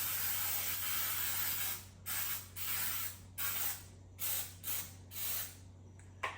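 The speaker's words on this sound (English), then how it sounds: "We're going to go ahead and grease it with some Baker's Joy" Baker's Joy baking spray hisses onto a pan being greased, first in one long spray and then in a string of short separate bursts, close and loud over a faint steady hum.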